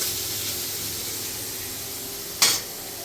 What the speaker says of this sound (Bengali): এখন এই পনিরটা একটু ভেজে নেবো।